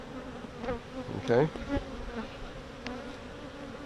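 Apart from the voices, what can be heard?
honey bees buzzing around hive combs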